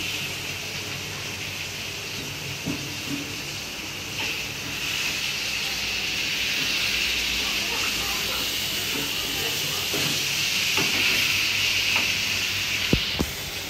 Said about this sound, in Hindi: तड़का लगा रही है मैं भी दाल को।